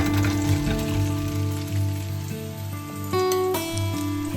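Spice-coated potatoes frying in melted butter and a little oil in a pan, a continuous crackling sizzle with steady hiss, close and fairly loud, with a brief clatter partway through.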